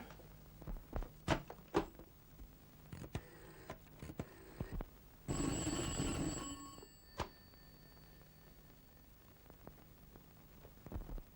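An old-fashioned telephone bell rings in a Turkish film scene, with clicks and clatter before a longer burst of ringing, then a few faint taps.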